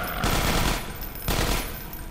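Rapid gunfire in a zombie video game, two loud sustained bursts of automatic shooting separated by a short lull, with no talking over them.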